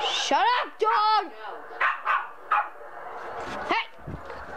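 A small dog yaps in sharp, repeated barks close by, mixed with shouting voices in an animated adventure scene.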